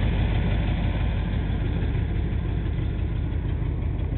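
A 1988 Chevy 350 TBI Silverado truck with about 333,000 miles idles steadily, a loud, close, low rumble with a faint tick, unbroken for the whole stretch.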